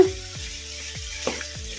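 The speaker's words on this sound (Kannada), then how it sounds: "ಮೀಡಿಯಮ್ ಫ್ಲೇಮಲ್ಲಿ ಇಟ್ಕೊಂಡು ಫ್ರೈ ಮಾಡ್ಕೊಂಬಿಡೋಣ" Chicken masala sizzles steadily in a pan over medium flame, with a regular scraping rhythm of stirring about three times a second and no voices.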